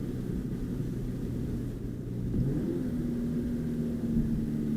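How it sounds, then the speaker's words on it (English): A 2020 Subaru BRZ downshifts from inside the cabin: a steady low engine drone rises into a brief rev blip, then settles into a sustained higher hum under constant road rumble. "That was a nice downshift."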